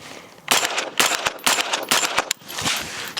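Rapid close shots from a suppressed Radical Defense MK1 PDW on a shooting range, a quick burst of about eight sharp cracks with brief gaps, loud and crisp against quiet outdoor air.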